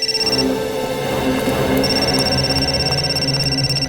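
Mobile phone ringing loudly and close with a repeating electronic ringtone pattern of sustained tones, pulsing steadily for several seconds over a faint background, no speech.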